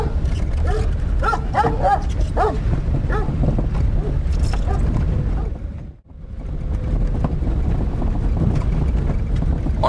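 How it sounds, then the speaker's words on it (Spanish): A wolfdog outdoors gives a rapid series of barks and yips in the first few seconds, over loud wind buffeting the microphone, which briefly drops out before the wind noise returns. "Esto, un perro lobo."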